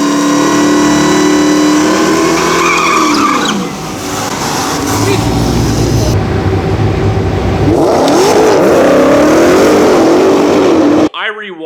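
A Dodge Demon 170 drag car accelerates hard at the Bradenton drag strip, a loud roaring engine rising in pitch through gear changes, with crowd noise and commentary mixed in before it cuts off abruptly.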